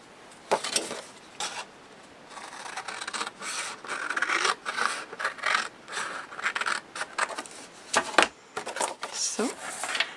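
Scissors or a trimmer cut away excess card paper while making an envelope scene card, giving a series of close, scratchy rasping strokes in uneven bursts, with a person talking between them.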